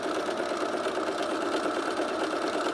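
A cover stitch sewing machine runs slowly but steadily over underwear elastic, a continuous close mechanical whirring hum with a fast even stitching rhythm throughout.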